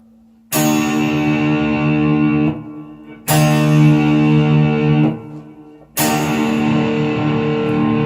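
An electric-toned guitar is strummed upward three times with the fifth string caught as well, each loud chord ringing about two seconds before being cut off, alone and close.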